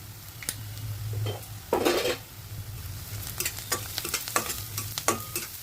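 Onion sautéing in a pan with green chili, turmeric and asafoetida, heard as a close sizzle broken by repeated spatula scrapes and clinks against the pan, a louder burst midway, no voices.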